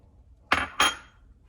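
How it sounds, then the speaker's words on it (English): Ice cubes drop into a Thermomix bowl in two quick, hard clunks about a third of a second apart, close and clear over a quiet background with no talk. "So I'm putting in here 1, 2, 3, 4, 5 ice cubes."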